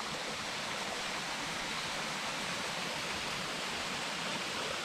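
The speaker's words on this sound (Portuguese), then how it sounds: "Cascata da Siriema." Cascata da Siriema waterfall in Parque Oschin, Monte Verde, on a cold day: a steady, dense roar of falling water, constant and enveloping, with no voices over it.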